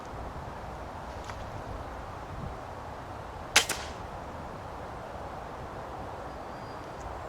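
A single sharp rifle shot with a silencer fitted, heard once in the middle of an otherwise quiet outdoor stretch, a brief crack with a short tail.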